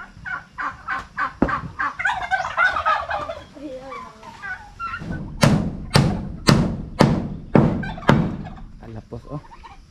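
Turkeys gobbling near a bamboo pen, with a rapid burst of calls early on, then a string of loud, close, rhythmic gobbles in the second half, while a person talks.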